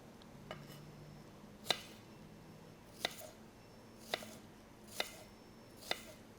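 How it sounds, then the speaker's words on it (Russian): A knife chops onion finely on a cutting board indoors in slow, separate chops, five sharp taps spaced about a second apart against a quiet background. "Переходим к луку. Его также режем достаточно мелко."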